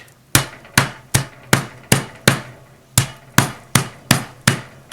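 Chicken cutlets being pounded thin for schnitzel, twelve sharp, evenly spaced whacks of a meat mallet landing close and loud, each with a short decay, alone without talk.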